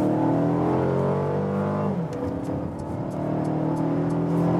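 A 2-litre four-cylinder Mercedes CLA 220 4Matic accelerates hard in sport mode, its engine note climbing steadily, briefly dipping at a gear change, then rising again, loud and close inside the cabin.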